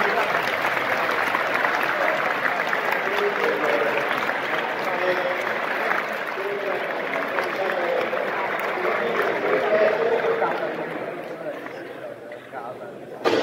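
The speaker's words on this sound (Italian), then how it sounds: "un applauso alla Presidente" Steady applause from a school audience fills the room, mixed with murmuring voices, and tapers off near the end.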